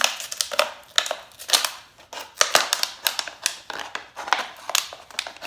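Scissors cutting through a plastic water bottle for a hair dryer hack, heard up close as a steady run of sharp snips and crinkling crunches at a quick, even pace, with no voices.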